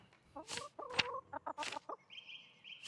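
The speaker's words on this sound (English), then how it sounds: "Why is there a chicken noise happening right now?" Chicken clucking in the video game Pentiment, a series of short, clear clucks and squawks in quick bursts, loud and close, with no talk over them.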